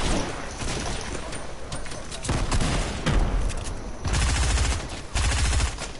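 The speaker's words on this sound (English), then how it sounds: "Oh, I'm getting shot from somewhere else." Rapid bursts of gunfire in a Fortnite arena match, dense overlapping shots cracking in quick clusters throughout, loud and close, with the player talking over it.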